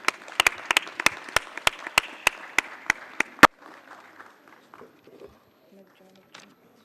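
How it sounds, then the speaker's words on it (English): Audience at a ceremony claps in rhythm, a dozen or so sharp, evenly spaced claps, then the clapping stops abruptly and a quieter room murmur trails off. "Please give a huge round of applause for them."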